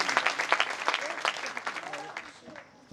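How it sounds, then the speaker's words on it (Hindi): Church congregation clapping loudly, beginning as crisp, irregular bursts of many hands, then slowly thinning and fading toward the end. "जोरदार तालियां बजाइए यीशु के लिए"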